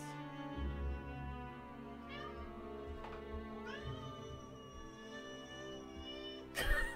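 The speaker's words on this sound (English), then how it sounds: "did you hear my cat?" A male pet cat meows several times in short rising calls, close and fairly clear, over steady background music from a Might and Magic 7 computer game.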